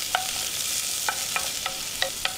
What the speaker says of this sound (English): To that, we're going to add some chopped onions.